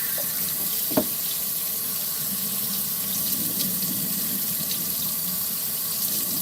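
Hot tap water running steadily into a sink while kitchen knives are rinsed, a continuous close hiss and splash with one brief clink near the start.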